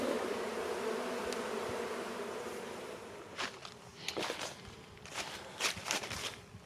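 Honeybees buzzing around an open hive in an apiary, a steady close hum with soft rustles and faint footsteps or handling noises in the second half.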